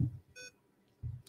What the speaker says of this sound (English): I hear something beeping.